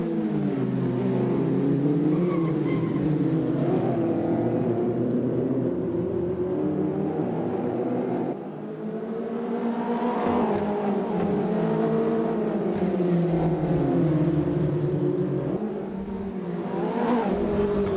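Supercars race cars driving around the Sydney track while warming their tyres, a continuous loud engine roar with rising and falling revs and overlapping cars, with no pauses throughout.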